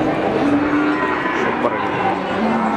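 Simmental feeder cattle at a livestock market in Ambarawa, Indonesia, lowing amid steady crowd and market noise, with a few drawn-out moos over the din.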